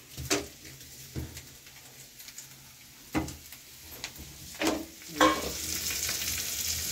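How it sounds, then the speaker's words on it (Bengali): Carrots, potatoes, capsicum and onion fry together in oil in a kadai, with intermittent sharp sizzles and stirring scrapes rising over a quiet, steady crackle. "আলু, ক্যাপসিকাম, পেঁয়াজ একসঙ্গে সব ভেজে নেওয়া হচ্ছে"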